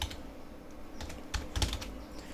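Someone types on a computer keyboard, with quiet, irregular key clicks coming in short bursts and a few louder taps, close by with no talk.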